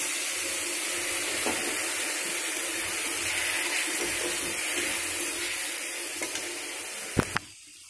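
Ground spices frying in a pan for Bengali moong dal with fish head, just after a splash of water, giving a steady loud sizzle throughout that ends with a couple of sharp utensil clanks near the end.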